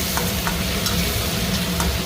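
Ginger-garlic paste, salt, turmeric and tomatoes fry in a pan with a steady, close crackling sizzle and light scraping of stirring throughout, no talking.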